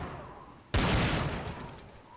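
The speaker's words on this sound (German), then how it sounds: "Da schießt jemand." Sudden loud burst of gunfire in the video game Trouble in Terrorist Town, a sharp blast followed by a dense, rumbling roar of shots and echoing decay; preceded by faint background game noise, no speech.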